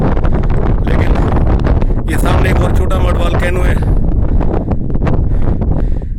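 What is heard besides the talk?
strong wind at mud volcano summit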